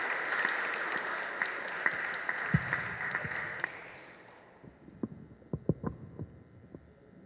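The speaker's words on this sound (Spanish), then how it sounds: "Un aplauso para Ana" Audience applause for author Ana Romero at a book presentation in the Palacio de Minería, a dense steady round of clapping that fades after a few seconds into scattered, louder individual claps.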